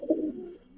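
Damascene pigeons give a single short, soft coo, near and low-pitched, fading quickly with no talk over it.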